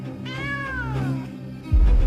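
A single drawn-out cat meow, clear and close, followed by a sudden low thump.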